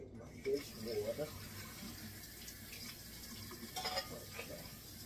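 A kitchen tap runs into a sink, filling dishwater after chitterlings are cleaned. A steady stream of water splashes and gurgles throughout, with a few brief clinks and what sounds like faint voice in the background.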